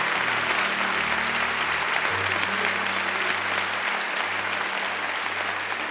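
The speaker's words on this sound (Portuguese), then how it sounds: "Vamos aplaudir." Church congregation applauding during a bilingual Portuguese-English worship service, a steady, loud wash of clapping filling the whole stretch, with a sustained low organ or keyboard tone underneath.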